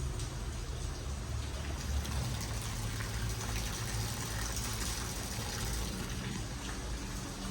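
Water pours steadily through a pipe into a flooded farm field after heavy rain, a continuous, close rushing and gurgling flow that stays even throughout.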